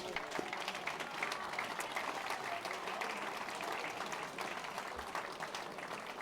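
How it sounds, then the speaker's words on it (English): A crowd at Southampton Football Club's 2019 player awards applauds the management team and players, a thick, continuous roar of many hands clapping that holds steady at moderate loudness for several seconds. "Please give them a massive round of applause."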